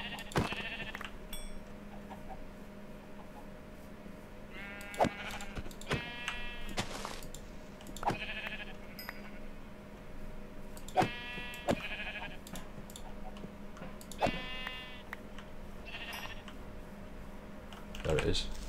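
Sheep in modded Minecraft give several short, clear bleats at irregular intervals, mixed with quiet keyboard typing and faint speech in the background.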